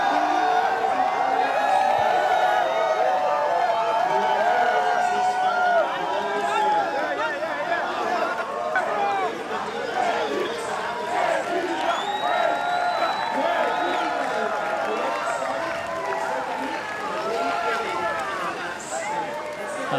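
A beach crowd at the Pipe Masters surf contest cheers for Brazilian surfer Gabriel Medina, with whoops and excited shouting over continuous crowd chatter and a commentator's voice, loud at first and easing slightly later.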